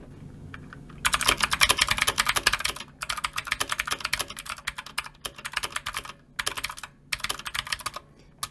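Rapid typing on a Redragon Kumara K552 mechanical RGB keyboard, a dense clatter of crisp key clicks in bursts separated by short pauses, close and loud with no voices.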